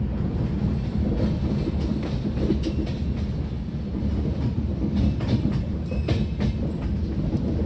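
The Raipur–Secunderabad Superfast Express, train 12772, runs in a train simulator game with a steady low rumble and rhythmic clickety-clack of wheels over rail joints, continuous and loud with no talking.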